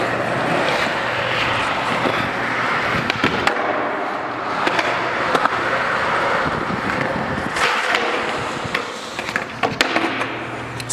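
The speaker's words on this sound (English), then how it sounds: "it's a more advanced way to stop. It's called power sliding." A skateboard power slide used for braking: a loud, continuous rolling roar of wheels on pavement, interrupted by sharp scraping slides and a few clacks of the board, close and outdoors.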